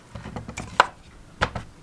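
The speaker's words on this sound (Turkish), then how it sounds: "Şimdi doğramaya geçiyorum" A knife chops through potatoes on a board: two sharp, distinct cuts with quieter scraping and knocks between them, close and clear.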